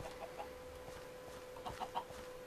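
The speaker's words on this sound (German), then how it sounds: "dieses Huhn ist der motivierteste Eierleger, den ich je gesehen habe" A Minecraft chicken clucks in short, scattered bursts over a quiet steady hum, fairly faint and close.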